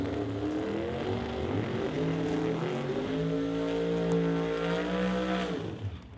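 Drag racing doorslammer cars finishing burnouts at a strip, engines revving with rising and falling whining harmonics, loud and sustained, then cutting off near the end.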